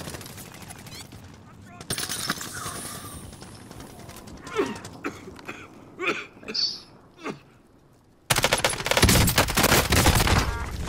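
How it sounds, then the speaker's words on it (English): Players shooting at each other in a battle royale shooter produce bursts of rapid gunfire, sporadic distant shots in the middle and a dense loud barrage at the end, with voices talking over it. "Shooting at each other."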